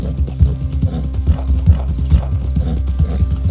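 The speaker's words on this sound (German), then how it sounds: "reiten wir mal hier runter" Horse hooves clip-clop steadily in Red Dead Redemption 2 as a rider moves along, with an even, close, rhythmic beat over a low background hum.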